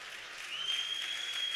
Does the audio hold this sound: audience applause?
yes